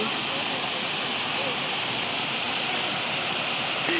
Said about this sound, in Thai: จะเป็นบรรยากาศน้ำตกแม่กำปองนะคะ สวยมาก ๆ เลย